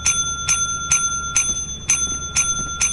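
Bright bell chimes struck in a video game, Lethal Company, ringing six times at an even pace roughly every half second, each strike clear and ringing over a low background hum.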